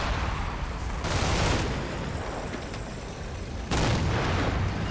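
Infantry gunfire in the Combat Mission Red Thunder war game, a distant rolling crackle of rifle and machine-gun fire with two heavier bursts, continuous and moderately faint.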